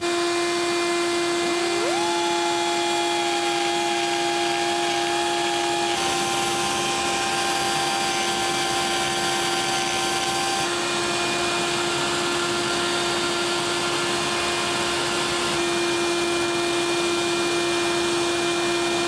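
A power grinder cuts down an aluminum weld on a fully assembled twin-turbo Mercedes V12 engine. It makes a loud, continuous, close whine that climbs in pitch early on, then holds steady, with no talking.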